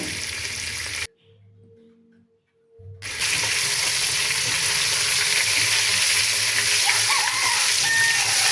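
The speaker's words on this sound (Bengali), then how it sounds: "কপির মধ্যে 1 চামচ হলুদ, 1 চামচ লবণ দিয়ে ভালোভাবে কপিগুলো ভেজে নেব।" Cauliflower florets fry in hot oil with turmeric and salt, a loud, close, continuous sizzle and spatter after a short near-silent gap, with occasional stirring.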